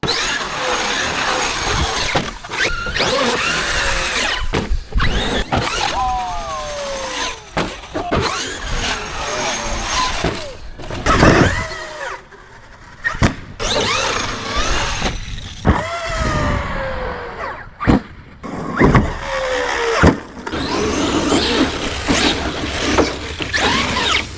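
A Traxxas X-Maxx 8s RC truck drives and launches off a ramp for tricks, its electric motor whining and revving loudly in bursts with sharp landing thumps and crunches, outdoors and close.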